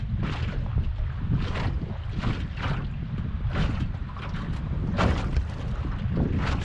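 Wind gusts buffet a fishing boat rocking on open water during striped bass fishing, a steady loud roar with pulsing surges and no talk.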